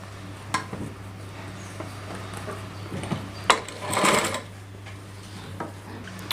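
A sewing machine stitches the side seam of a heavy-work Rajputi lehenga in one short burst, with scattered light clicks and handling sounds around it over a steady low hum.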